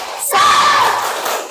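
Schoolchildren in a classroom shout a loud group clapping chant, a burst of massed young voices rising sharply and holding for over a second with rough, cheering energy.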